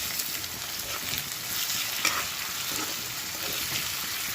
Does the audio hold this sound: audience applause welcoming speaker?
no